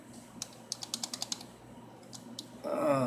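A computer keyboard being typed on while a zip code is entered into an auction site search, about eight quick close clicks in a burst, then a couple more, before a voice starts speaking.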